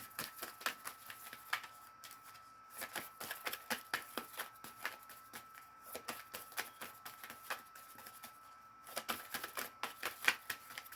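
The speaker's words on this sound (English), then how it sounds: "Two more shuffles and I'll pull from the top." Repeated crisp riffling of tarot cards being shuffled, close and clear, in quick bursts with brief pauses between, no voices.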